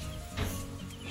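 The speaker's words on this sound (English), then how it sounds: "here are the chickens" Soft clucking from chickens, faint and somewhat distant, with a brief louder cluck in the middle.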